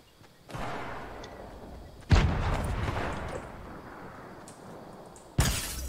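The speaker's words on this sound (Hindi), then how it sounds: "एक मैंने रैंडम ग्रेनेड डाला किसको तो पड़ा, उसी को मार दिया।" Loud in-game explosions in Fortnite, likely grenade blasts: three sudden booms, each followed by a rumbling tail, with the middle one the strongest.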